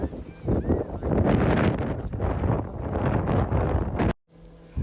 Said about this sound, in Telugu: గాలి సౌండ్ అయితే మామూలుగా లేదు